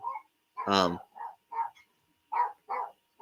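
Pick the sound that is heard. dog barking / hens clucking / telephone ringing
dog barking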